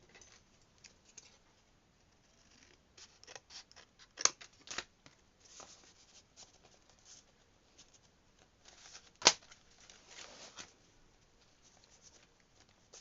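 Scissors snip a paper tag for a junk journal, giving quiet, scattered cuts and soft paper rustles with a couple of sharper close snips and no talking.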